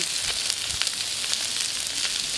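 Sardines grilling on a plancha hiss and sizzle in a loud, steady crackle with scattered sharp pops of fat.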